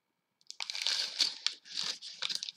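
A sheet of paper is crumpled close by, crisp crinkling and crunching in several quick bursts.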